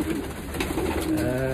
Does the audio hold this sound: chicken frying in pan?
no